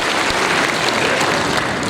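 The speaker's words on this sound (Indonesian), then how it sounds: "Tepuk tangan sekali lagi untuk universitas kita." Graduation ceremony crowd applauding for their university, a dense, steady wash of clapping that fills the whole stretch at constant loudness with no talk over it.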